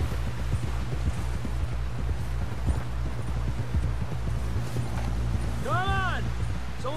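Horse hooves gallop in Red Dead Redemption 2, a rapid rhythmic clip-clop over a low rumble, while voices speak over them and a horse briefly whinnies near the end.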